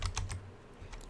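Rapid typing on a computer keyboard while entering a search term in a game editor, a steady run of close, crisp keystrokes with no talking.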